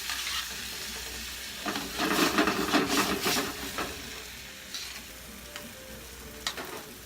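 Wine simmers in a paella pan with a steady close sizzle, and bursts of stirring scrapes swell in the middle before settling back to a gentle hiss.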